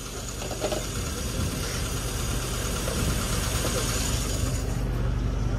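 A classic car engine with a variable dwell distributor idles steadily nearby, a continuous low rumble with slight unevenness and faint mechanical clatter throughout.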